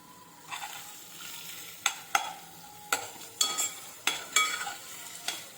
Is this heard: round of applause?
no